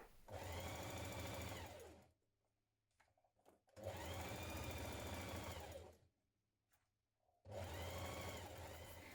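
A sewing machine stitches the side seams of a spring/summer dress at a 1.5 cm seam allowance, running in three steady, loud bursts of about two seconds each, with short quiet pauses between them.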